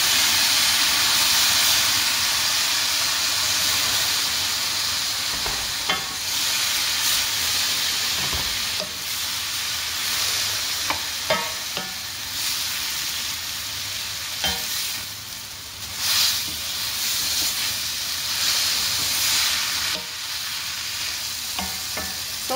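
Luncheon meat and bitter melon frying in a pan as a splash of water is added, giving a loud steady sizzle and hiss with scattered stirring clicks and scrapes, no talking.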